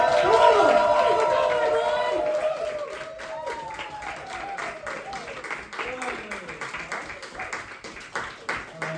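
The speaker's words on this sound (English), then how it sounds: "we'll welcome him with rapturous applause" Comedy club audience applauds and cheers to welcome a stand-up comedian onstage, loud at first then thinning into scattered claps and whoops, with voices calling out over it.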